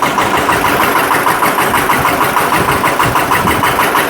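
A farm tractor engine idling and running steadily, a constant near mechanical rumble with a regular throb and no speech, set in a field where the tractor is being tried out.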